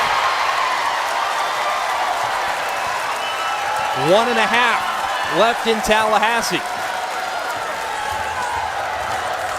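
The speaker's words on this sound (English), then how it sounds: "that loud crowd quieting down and firing up with a new cheer" Arena crowd noise at a Florida State versus Syracuse basketball game in Tallahassee, a steady loud roar with a rhythmic chanted cheer rising midway, under a play-by-play commentator's voice.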